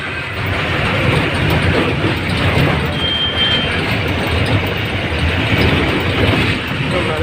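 A train rolls past close by near the Godavari river, a steady loud rumble of wheels and carriages with faint clatter running for the whole stretch, no voices.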